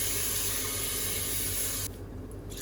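Water poured into a rice cooker pot as a steady, close running splash that cuts off near the end, leaving a quieter tail.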